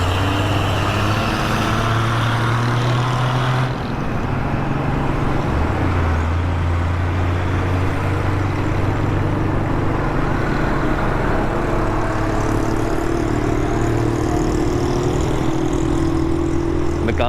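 Busy road traffic in Karachi: engines of cars and heavier vehicles rumble and drone continuously as they pass close by, loud and unbroken throughout.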